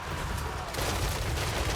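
Iron Hail Gunners fire volleys in a Total War: Warhammer 3 battle, a dense, continuous rumble of massed gunfire with overlapping reports and a fresh burst of shots partway through.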